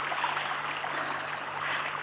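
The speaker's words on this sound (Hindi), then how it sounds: "कहीं पास ही कोई पहाड़ी झरना है, उसकी कल कल ध्वनि" A mountain waterfall stream gurgles in a steady, broad wash of flowing water, moderately loud and unbroken, with no voices.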